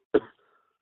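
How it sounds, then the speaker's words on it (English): A single short cough, close and fairly quiet, followed by silence. "Are you coughing"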